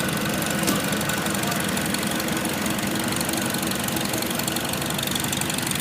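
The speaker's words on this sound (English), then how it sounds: "I think Tim's driving this one, an IH M from 1949." A 1949 International Harvester IH M tractor running in an outdoor parade, a steady loud engine chug with a rough knocking rhythm throughout.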